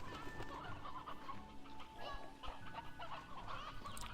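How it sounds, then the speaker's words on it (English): Many roosters cluck and crow together in a farm-sim video game, a dense, busy chorus of fowl calls with constant overlapping clucks close by, no talk over it. "God, there's so many roosters."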